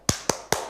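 A classroom group doing the 'tepuk semangat' clap: three sharp, evenly spaced claps in quick succession, close and crisp, with no voices.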